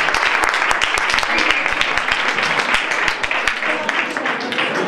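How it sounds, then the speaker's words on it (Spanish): An open mic audience claps for several seconds in a dense, continuous round with sharp individual claps standing out near the front, then thins slightly toward the end. "Un aplauso para nosotros"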